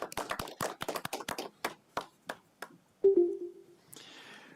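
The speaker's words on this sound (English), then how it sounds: "Golf clap." Quiet polite golf clap at a city council meeting: a few hands tap out soft, sparse claps that slow and thin out, followed by a brief tone and some rustling.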